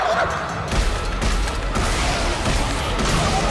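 Plasma cutter weapon firing in Dead Space 3, a dense, loud burst of crackling impacts and thuds that fills the clip with little break.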